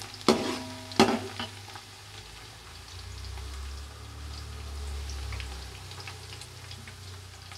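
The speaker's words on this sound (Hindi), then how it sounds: "अभी मैं प्याज तल रही हूँ।" Onions fry in a pan at home, giving a soft, steady sizzle. Two sharp clanks of a utensil striking the pan ring out near the start, and a low hum sits beneath.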